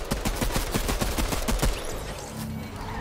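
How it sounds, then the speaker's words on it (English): Rapid bursts of gunfire in Fortnite crackle in quick succession for about a second and a half, then fade into a lower rumbling background. "I heard gunfire coming from the right."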